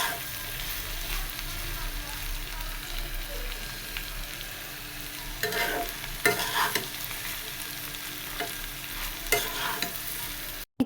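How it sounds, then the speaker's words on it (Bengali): Cauliflower and egg sizzle steadily in a pan while a utensil stirs, with scraping accents growing busier partway through, close and continuous. "তো এখন আমি 5 মিনিটের মতো নেড়ে চেড়ে রান্না করে নেব।"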